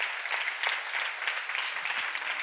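A church congregation at a Bible seminar claps together in a dense, steady burst of applause that fills the whole moment.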